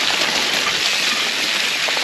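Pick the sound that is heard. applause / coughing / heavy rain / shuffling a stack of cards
heavy rain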